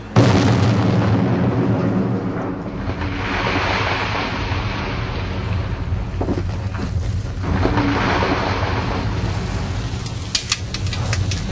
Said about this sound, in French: Tu vas avoir une belle explosion.